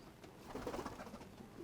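Purebred pigeons kept by a breeder in Bamako coo softly in a low, rolling murmur, a continuous gentle burbling that swells in the middle, faint and fairly close, with no talk over it.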